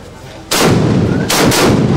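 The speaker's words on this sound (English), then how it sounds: "Several cannon shots fired to signal the commencement of activities" Two loud, booming cannon blasts about a second apart, each with a long rolling echo that fills the air, fired to open a chiefs' regent installation ceremony in Igbide Kingdom.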